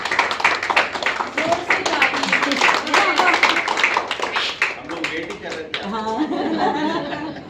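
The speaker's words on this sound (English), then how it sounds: "I think she also deserves a big round of applause." An audience at a monthly business networking club meeting in Kolkata gives a club member a round of applause: dense, steady clapping fills the room, with chuckles and voices talking over it.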